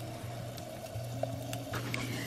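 Onions and garlic frying in hot olive oil give off a quiet, continuous sizzle with light crackles over a steady low hum.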